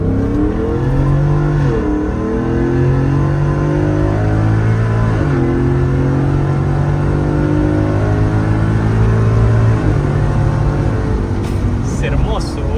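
Ford F150 Tremor with a 5.0 Coyote V8 on open exhaust: a loud, close, deep engine note rising and falling through a few revs, with talk over it.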